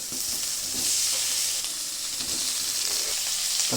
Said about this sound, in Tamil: தக்காளி பழத்தை போடுவோம்.